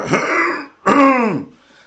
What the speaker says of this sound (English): You hear the coughing?